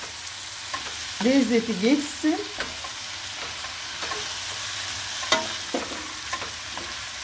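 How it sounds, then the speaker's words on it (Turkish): Chopped spring onions sizzle and hiss in a hot pan for about a minute while being stirred and turned, for Izmir-style stuffed artichokes, with occasional utensil clinks and a brief voice. "Fakat taze soğanımızı kuru soğan gibi kavurmuyoruz."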